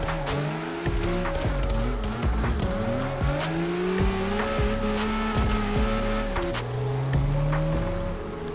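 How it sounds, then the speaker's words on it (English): Drift car engine revving hard in fourth gear in CarX Drift Racing Online, a loud continuous engine tone rising and falling through the revs, with tire squeal and skidding mixed in. "Just revving that fourth gear so hard."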